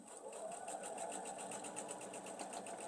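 A sewing machine chain-pieces quilt block fabric, its needle running in a steady, rapid rhythmic whir close by for the whole stretch, with no talking over it.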